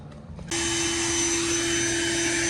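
A pool blower forces air through the plumbing lines of a sand filter pool during closing. It kicks on abruptly after a short quiet moment and holds a loud, steady roar with a constant high whine.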